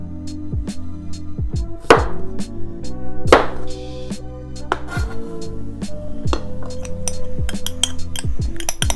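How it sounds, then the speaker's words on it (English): A knife cuts potatoes on a board with a series of sharp, close chops and knocks that come in an irregular rhythm. Some strokes ring against the surface, and a few are heavier and more resonant. No voices are heard. "First, I get out the potatoes and start cutting"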